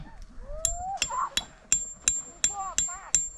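Tent pegs are hammered into the ground at a campsite in Khao Yai, about eight sharp, evenly spaced strikes in quick succession. The blows land close by while people chatter in the background.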